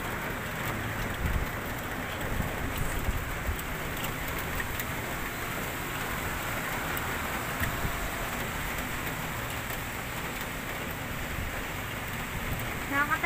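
Steady rain falls outside a house in a hometown neighborhood, a dense, continuous hiss of drops on surfaces, with a low rumble beneath and a passing vehicle faintly mixed into the constant downpour.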